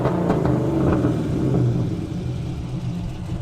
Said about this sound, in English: I'm revving the car in my ear.